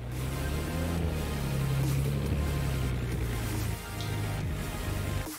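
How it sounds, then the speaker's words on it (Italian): Beechcraft Baron 58 twin-engine aircraft in flight, a loud, steady droning engine hum with strong low tonal harmonics filling the cabin, broken by brief dips and a few clicks. "Senti, senti che motore, senti che motore"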